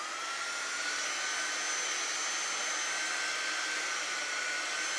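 A hair dryer blows steadily on a painted skunk shirt, a continuous loud even whoosh with no pauses for the full five seconds.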